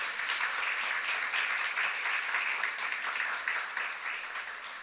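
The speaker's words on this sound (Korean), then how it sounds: "우리 큰 박수로 한번 축복해" A church congregation claps warmly to welcome a missionary family serving in Senegal, a steady, moderately distant wash of applause filling the sanctuary without a break.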